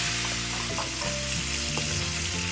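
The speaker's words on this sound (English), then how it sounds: "I pulled out the garlic that was on the marinade, and now we're going to fry that" Garlic pulled from a beef adobo marinade frying in a hot pan, a loud, steady close sizzle with faint stirring scrapes and no talk.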